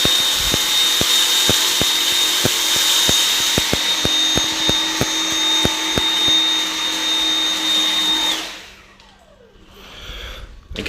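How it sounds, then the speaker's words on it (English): A Dyson V7 Motorhead cordless stick vacuum running on low power during a single forward pass, a loud steady motor whine with a faint regular ticking, cutting off near the end. "Let's see what one forwards and backwards pass with the Dyson can do."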